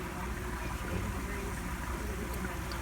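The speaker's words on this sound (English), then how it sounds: "There's water draining back in there" Steady rushing of water draining back through a garden pump in a grow setup, a constant wash of broadband noise with a low rumble, unbroken and fairly close.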